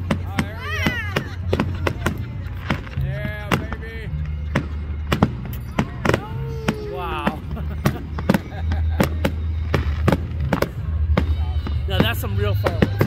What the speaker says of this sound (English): Some real fireworks.